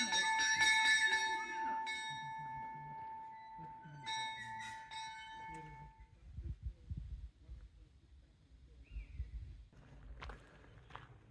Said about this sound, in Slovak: Pri vstupe do areálu vás uvíta brána so zvonom.